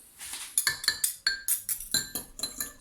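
Vinaigrette seasoned with salt and pepper being whisked in a glass bowl, a fast run of bright, close clinks of metal against glass in an uneven rhythm.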